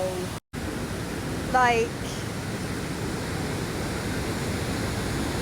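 Conwy Falls in North Wales roars as a constant broadband rush of falling water that fills the whole scene, with a brief voice rising faintly over it early on.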